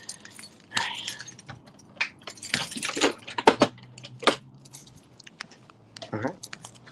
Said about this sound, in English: Why are there so many keys? I'm like a janitor.